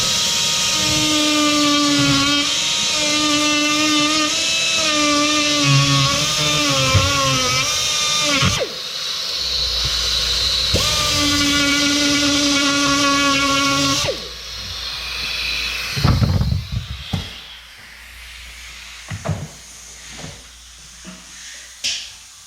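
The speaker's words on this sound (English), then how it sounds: "Take my die grinder. I grind the head of this rivet off." Air die grinder on a 1986 GMC 3500 crew cab vent window, grinding off a rivet head in loud, whining bursts with pauses between them, followed by quieter clatter and handling noises.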